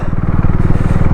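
Duke 390 motorcycle riding on a ghat road, its engine note a steady loud pulsing thrum close to the rider, continuous throughout.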